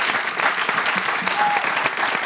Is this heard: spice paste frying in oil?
no